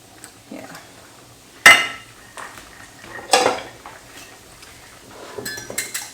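Two eggs for a sauce are beaten in a bowl with utensil on dish, making a few separate clinks and knocks. The sounds are close and fairly loud, with short quiet gaps between them.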